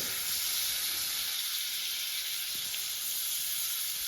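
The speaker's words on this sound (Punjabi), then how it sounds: "ਹੁਣ ਮਿਰਚਾਂ ਤਲਦੇ" Green chilies frying in hot oil give off a steady, loud sizzling hiss that runs unbroken from start to finish, with no voices over it.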